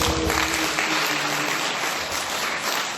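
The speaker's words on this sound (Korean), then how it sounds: "아멘. 박수." A church congregation at a retreat lecture bursts into dense, sustained applause, many hands clapping evenly for about three seconds.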